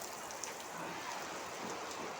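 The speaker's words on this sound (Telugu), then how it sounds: "ఈరోజు బంజారా హిల్స్ రోడ్ నెంబర్ 12లో వర్షం చూసారా ఎంత బాగా పడుతుందో" Heavy rain pouring on a street on Road No. 12 in Banjara Hills, Hyderabad, a steady dense hiss of falling water with no pauses and no voices.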